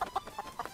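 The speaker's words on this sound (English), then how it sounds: "I just finished herding those chickens." Chickens cluck in a quick run of short, nasal calls, several bursts close together in a brief animated farmyard moment, moderately loud with no talking.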